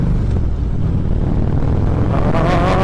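A loud, steady low rumble from the aftermarket muffler of a Harley-Davidson Dyna Switchback with a Twin Cam engine, continuous throughout with some wind noise on top.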